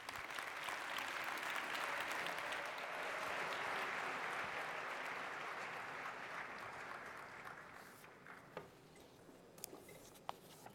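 Audience applause fills a summit hall as Mayor Gray returns to the stage, a dense sustained clatter of many clapping hands that holds strongly, then thins out into scattered claps near the end.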